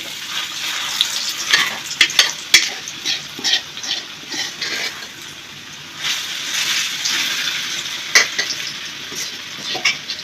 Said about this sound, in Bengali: হালিমগুলো একটু তেলের মধ্যে ভেজে নিলাম।